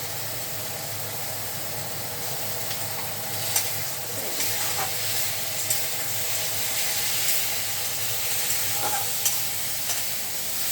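Curry sizzles steadily in a pan as spices go in, a constant frying hiss broken by a few faint clicks and stirring knocks.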